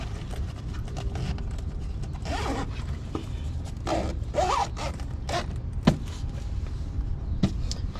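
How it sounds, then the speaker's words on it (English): A zipper closes on an aftermarket luggage bag fitted to a BMW R1300GS Adventure motorcycle, several short rasping pulls with small creaks and clicks, close and quiet, with no talking. "Zip this back up."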